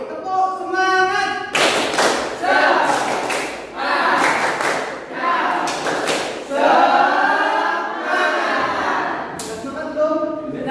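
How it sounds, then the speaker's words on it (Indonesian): An economics class claps out a rhythmic spirit clap (tepuk semangat), sharp patterned bursts of hand claps in quick groups with pauses between, chanted voices mixed in, close and loud. "Nah, sebelumnya kita melakukan yang namanya tepuk semangat terlebih dahulu."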